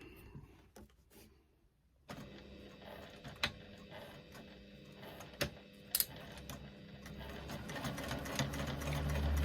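A sewing machine stitches two fabric panels together with a 3/8-inch seam allowance, starting after a short quiet pause and then running as a soft, steady whir with occasional clicks and knocks.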